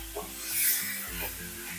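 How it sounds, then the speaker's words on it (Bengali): Boneless chicken and spices being stirred and sautéed in a pan, a soft sizzle with the scrape of a spatula swirling through the mixture, close and steady, with no one talking. "যতক্ষণ না মশলা থেকে তেল ছেড়ে আসছে আর চিকেনটাও সুন্দর কষানো হয়ে যাচ্ছে, ততক্ষণ আমরা কষিয়ে নেব"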